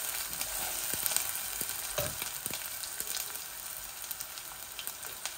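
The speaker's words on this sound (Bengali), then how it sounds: "ওই দেখো আমার এই পেঁয়াজ আদা রসুন গুলা ইয়ে হয়ে গেছে, ভাজা ভাজা হয়ে যাক" Onion, ginger and garlic frying in a pan give a continuous crackling sizzle with scattered sharper pops and light stirring taps, no talking.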